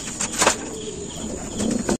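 Pigeons flapping their wings, a close rush of fluttering beats in short bursts near the start and again toward the end over steady background noise.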